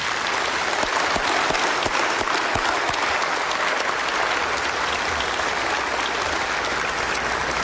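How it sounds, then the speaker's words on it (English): A graduation audience applauds retiring high school teachers with steady, loud clapping from many hands, a dense continuous patter that holds evenly throughout with no speech over it. "Please join me in honoring our retiring teachers with a round of applause."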